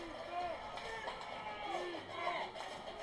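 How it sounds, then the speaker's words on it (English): High school football crowd in the Eastwood stands chanting for its defense, rhythmic swelling voices carrying from a distance over steady background noise. "You hear the crowd chanting for the Eastwood defense."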